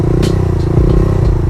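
Honda Grom motorcycle engine idling close up during a circle wheelie, a loud steady low putter with slight throttle blips.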